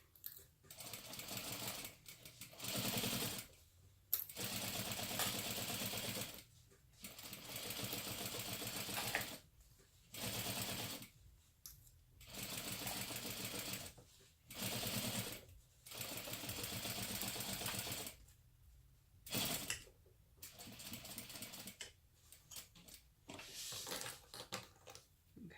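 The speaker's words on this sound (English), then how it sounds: "just sew the zipper onto that main panel" A sewing machine stitches a zipper onto a fabric main panel of a beauty bag at a quarter-inch seam, running in repeated bursts of steady whirring separated by short pauses, close and clear.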